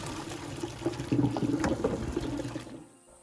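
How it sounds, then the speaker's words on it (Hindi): Cold water pours over freshly drained pasta in a home kitchen: a steady, fairly close splashing stream for almost three seconds, then it cuts off into quiet. "उसके ऊपर थोड़ा सा ठंडा पानी गुजार दीजिए ताकि उसका जो है कुकिंग प्रोसेस स्टॉप हो जाए"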